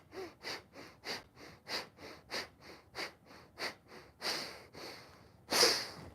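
Rapid rhythmic bellows breathing during Bhastrika yoga practice, about a dozen forceful nasal breaths in a steady pulse, close and fairly loud, ending with a few longer, stronger exhalations.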